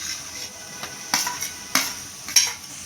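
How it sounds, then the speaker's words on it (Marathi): Paneer bhurji stirred and sautéed in a pan, a soft background sizzle broken by a few sharp scrapes and clinks of the spoon against the pan, close up, with no talking. "आणि आता आपण हे चांगलं ढवळून घेऊया, चांगलं परतवून घेऊया।"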